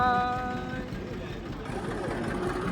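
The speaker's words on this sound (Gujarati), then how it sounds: "પેલું મિની ટ્રેક્ટર જાય" A mini tractor moves past on a farm among castor fields, its low engine drone steady and fairly close beneath an open-air wash of other rural noise, with voices talking over it at the start.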